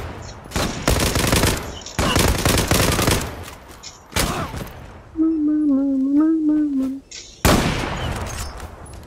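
Bursts of rapid gunfire in the video game Zula crackle in several volleys during a sniper fight, loud and close, with a short electronic warble between them and no talking.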